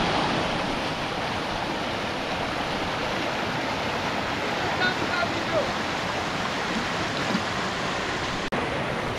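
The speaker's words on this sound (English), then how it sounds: "the water is clean and flowing." Clean river water flows steadily along the Shetugo River in Kuje, a continuous broadband rush and hiss that stays even and close throughout with no breaks.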